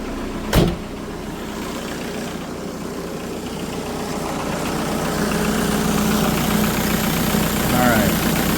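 A 1997 VW Passat engine runs with the AC on and the blower at full, giving a steady idle hum with rising fan whoosh, a brief sharp click near the start and faint short whines late on.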